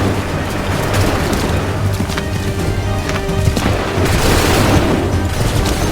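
Musket volley fire in Assassin's Creed III, a dense rolling fusillade of booming shots that runs steadily through the whole stretch over a low battlefield rumble, with no clear voices.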